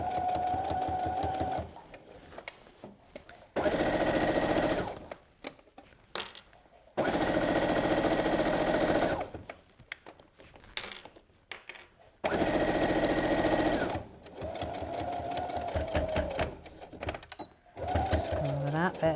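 A sewing machine stitching a fabric apron runs in several steady whirring, rattling bursts of a few seconds each, close up, with pauses between runs filled by quieter handling and a person talking.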